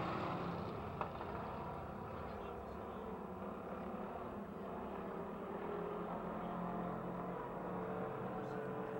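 Amateur stock cars racing in a five-lap heat at Pennsylvania Motor Speedway near Pittsburgh, a distant, continuous roar of several engines under a race announcer's commentary.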